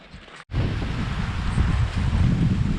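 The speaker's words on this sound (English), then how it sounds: "So the wind's picking up." Strong wind buffets the microphone outdoors near Villa Cerro Castillo in Chile, a loud, steady roaring rush that starts abruptly after a brief lull and keeps going.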